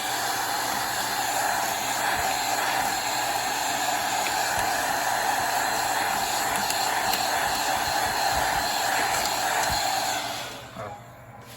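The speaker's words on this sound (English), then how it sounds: "let me vacuum this real quick" A vacuum cleaner runs close up over a mechanical keyboard with a loud, steady whooshing hiss that holds for about ten seconds, then cuts off and winds down near the end.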